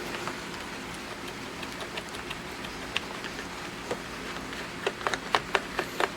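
Rain falling outside, a soft steady hiss with scattered sharp drops and ticks that grow more frequent toward the end, faint and without talk.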